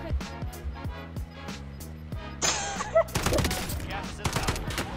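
Gunfire in the battle royale game Warzone as a player shoots through a wall at an enemy above; quick sharp shots start out spaced, then a louder, denser rattling burst follows, with game ambience and a few other sounds mixed in.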